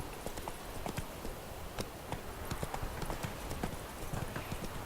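Hooves of the horse Roach clip-clop steadily on the ground in Witcher 3, a brisk, even rhythm of close, crisp hoofbeats throughout.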